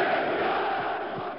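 A football crowd roars wildly in a stadium, a dense sustained wall of cheering voices lasting only a moment.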